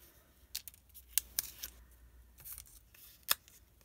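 Scissors snipping paper to cut out a note card in a quiet craft setting, with a few separate crisp snips and short gaps between them.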